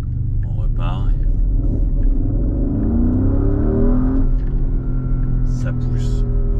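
A Porsche accelerates hard: a loud, close engine rumble rises in pitch through the gears, with a person speaking over it.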